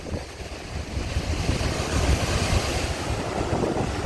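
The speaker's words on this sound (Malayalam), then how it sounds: "ഇത് കണ്ട നല്ല കടലാക്രമണമാണ്" Rough sea surge pounding the shore during stormy weather, a loud continuous roar of crashing surf mixed with heavy wind buffeting the microphone.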